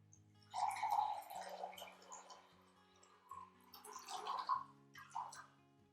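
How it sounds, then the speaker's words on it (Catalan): Running water dripping and splashing in short, close bursts, with quiet gaps between the wet gurgles. "És aigua!"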